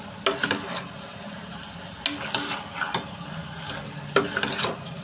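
Chili powder being stirred into a brinjal and drumstick curry in a pan, with irregular scraping and clinking spoon strokes coming in small clusters over a faint sizzle close by.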